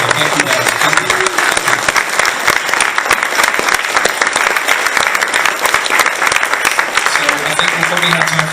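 A crowd gathered for a talk by a speaker breaks into loud, sustained applause, dense clapping running steadily throughout with faint voices mixed in and brief talk near the start and end.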